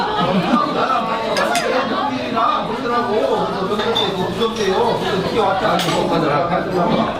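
Glasses clink together in a toast during a meal in South Korea, a few light chinks set among busy dishware and cutlery clatter, with people chatting throughout.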